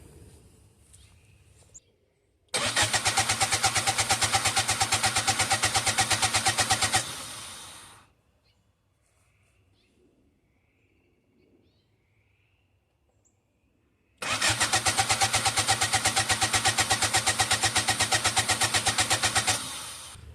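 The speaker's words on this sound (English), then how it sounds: "I'm gonna crank it over a couple more times and then we'll be ready for the first start on this thing" Turbocharged Honda Civic engine cranking on its starter without firing, two long loud bursts of rapid, steady churning separated by a quiet pause.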